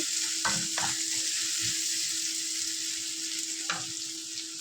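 Onion fries in a pan for a flattened-rice pulao, a loud steady sizzle close up, broken by a few scraping stirs of the spoon, with no one speaking.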